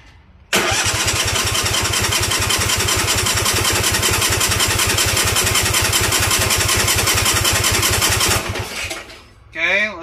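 A 25 horsepower Kohler engine on a lawn tractor, taken from a Cub Cadet, cranks loudly and close in a fast, even chug for about eight seconds without catching, then the starter cuts off.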